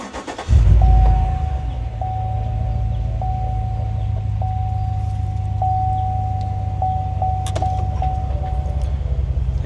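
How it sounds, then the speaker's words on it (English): Engine of a 2015-2018 GMC/Chevy truck cranking and catching at the start, then settling into a steady low idle that runs alone through the rest, with a faint repeating chime above it. "So let me turn on the vehicle and check the backup camera."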